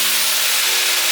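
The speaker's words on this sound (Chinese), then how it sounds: "大略翻炒一下" Enoki and red mushrooms are tossed with softened tomatoes in a hot pan, giving a brief, constant sizzling hiss with no talking.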